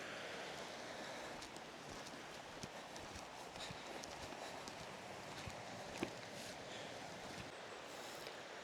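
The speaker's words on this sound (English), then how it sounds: "that's the river that I need to cross" A small, shallow river on a forest route rushes steadily and close by, a constant broadband wash of flowing water with faint splashes and no voices.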